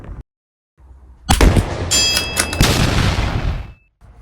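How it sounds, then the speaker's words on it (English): A Savage Mark II rifle fires at a range target 50 yards away. One loud, sharp report rings out close by, followed by a decaying echo, with quiet before and after. "now let's see how this new Savage Mark II shoots with Standard Plus"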